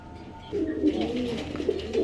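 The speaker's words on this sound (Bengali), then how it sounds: "এক পেয়ার কাশ্মীরি বোম্বাই কবুতর আছে রেড কালার" A pair of red Kashmiri Bombay pigeons coos in low, throaty, rolling murmurs that start after a short quiet moment and continue close by in soft repeated pulses, with no talk.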